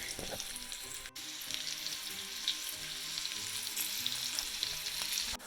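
Green beans and sweet potato pieces sizzle in butter in a pan, with a continuous soft frying crackle and occasional stirring or flipping scrapes, fairly quiet and close.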